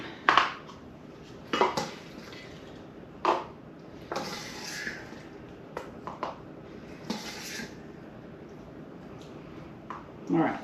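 Food containers clatter and knock as they are handled and loaded into a microwave, with several sharp close clunks scattered through, while a person talks over the handling.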